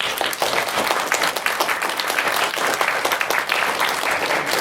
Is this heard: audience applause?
yes